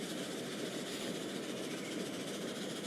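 Trains running in the railway simulation game Transport Fever 2, a steady, continuous rumble of rolling stock and engine noise with no speech, holding an even level throughout.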